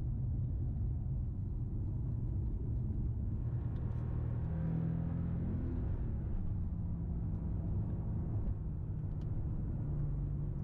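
Porsche 911 GTS pulling out of the pit lane at Spa-Francorchamps during a track day, a steady low engine rumble heard from inside the car that swells slightly midway, with no talk.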